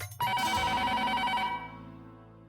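A telephone rings loudly on an outgoing call, a single bright electronic ring burst lasting about a second and a half before fading out.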